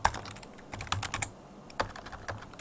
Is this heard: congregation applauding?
no